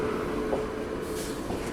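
Bangalore Rajdhani train hauled by a Lalaguda WAP-7 electric locomotive, a steady low rumble of rolling rail wheels that fills the whole stretch without a break.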